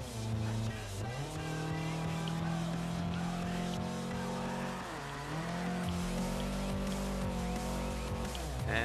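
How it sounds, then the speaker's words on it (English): Car sliding through a handbrake drift, engine droning steadily with pitch dips as the wheels break loose, tire noise rising under the engine note, close and loud throughout. "There you go, a bit of a slide there."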